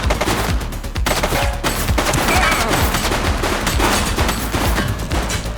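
Sustained gunfire in The Precinct, a police game, as a fleeing suspect in a red jacket opens fire: dense, loud bursts of automatic shots and scattered reports run steadily throughout, with no pauses.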